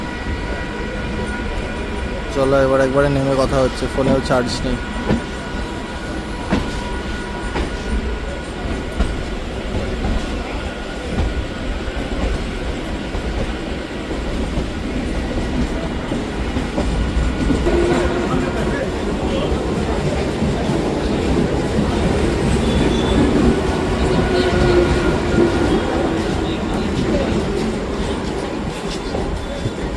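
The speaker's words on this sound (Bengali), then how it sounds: "ট্রেন আমাদের ছাড়ছে এখন শিয়ালদা স্টেশন। এটা হলো 10:15 হাসনাবাদ লোকাল।" A Hasnabad local train pulls out of Sealdah station, a continuous rumbling rail roar with wheel clatter running steadily throughout, while people talk over it.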